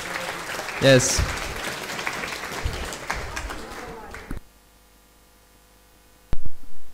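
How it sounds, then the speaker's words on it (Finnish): Audience applause at a Finnish youth event talk session, steady clapping for about four seconds that stops abruptly, followed by near-silence, a brief spoken word and a few sharp knocks. "No niin, annetaan aplodit nyt."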